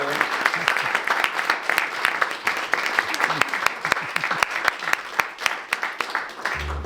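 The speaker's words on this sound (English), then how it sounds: "Let's give them a round of applause." Audience at a senior community concert applauding a couple being honored, sustained clapping of a moderate crowd with sharp individual claps standing out, fairly close and even across the whole stretch.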